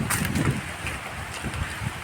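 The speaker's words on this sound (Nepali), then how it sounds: "हावाको अर्कै साउन्ड आउँछ सल्लाहको पत्ताबाट पास भएको जुन हावा हुन्छ त्यसको अर्कै साउन्ड आउँछ" Wind rushes through pine trees along a forest road in Kitam Bird Sanctuary, Sikkim, a continuous, fairly loud airy roar that swells and eases slightly with the gusts.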